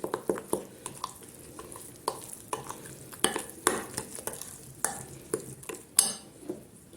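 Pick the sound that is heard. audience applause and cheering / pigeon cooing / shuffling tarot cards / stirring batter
stirring batter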